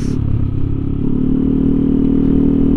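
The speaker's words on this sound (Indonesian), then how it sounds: "nah ini knalpot pakai inlet 50, pakai inlet 50 gaspul" A Yamaha NMAX 155 scooter with a TZM racing exhaust and 50 mm inlet is held at full throttle, giving a loud, steady, close droning exhaust roar with no pauses.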